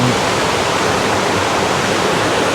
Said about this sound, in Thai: ได้ยินเสียงน้ำตกนี่ละ